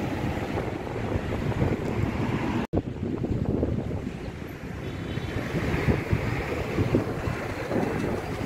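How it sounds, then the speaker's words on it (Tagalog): Strong wind buffets the microphone in a steady, loud roar with gusty surges, heard outdoors along Diversion Road near SM City in Mandurriao, Iloilo City, with no talking. "Lakas ng hangin."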